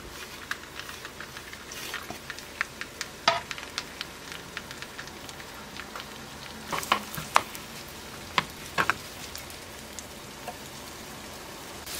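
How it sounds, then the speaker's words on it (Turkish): Finely chopped onion sautés in olive oil and butter in a small pan, giving a steady soft sizzle with scattered crackles and occasional spoon stirs. It is close and moderately quiet, with no talk. "İnce doğranmış kuru soğan ekleyerek kavuralım."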